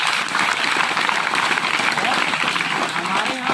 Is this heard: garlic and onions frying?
no